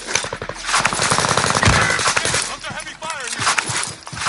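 Rapid machine-gun fire in a battle-royale style video game with loadout drops and a moving gas zone, dense loud bursts of shots throughout, mixed with players talking over team chat.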